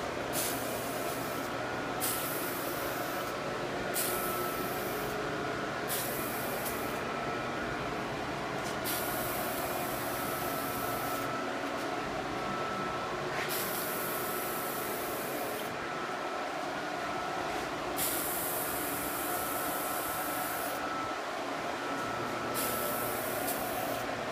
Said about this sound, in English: This thing sprays kind of cool. It's got a nice gun